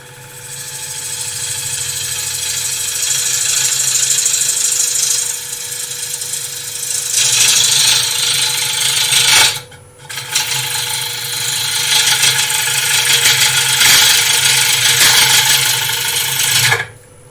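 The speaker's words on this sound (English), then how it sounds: "Just hacking away a bit of wood here." A wooden bowl spins on a lathe while a tool carves relief into it, making a loud, continuous rasping, ratcheting whir that breaks off briefly near the middle and then resumes.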